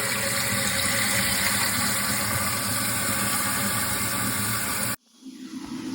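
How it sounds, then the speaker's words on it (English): Toilet tank refilling after a new fill valve is installed: a steady, loud rushing hiss of water runs for about five seconds, then cuts off abruptly and a quieter trickle follows. "Test for make sure that the flapper is in there sitting correctly and the water fills up."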